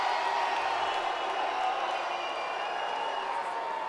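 Wrestling arena crowd at a WCW event in Lakeland, a steady loud roar of cheering and voices filling the hall without a break.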